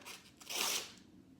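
A short, faint slicing swish as a homemade chef's knife, made from an old circular saw blade, draws through paper, rising to a brief crisp rasp and then fading out.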